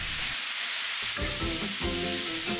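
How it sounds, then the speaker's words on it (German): Corn, onion, beans and chili peppers fry in a pot over an open fire, giving a dense, loud sizzle with clattering stirring knocks near the end. "Die Mais von allen Seiten schön anbraten."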